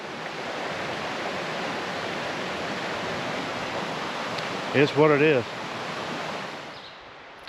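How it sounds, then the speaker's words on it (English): A creek flows steadily on a hiking trail crossing on the way to Devil's Bathtub, a constant rushing wash of water, with a short spoken phrase briefly over it near the end. "All right, we came across the creek."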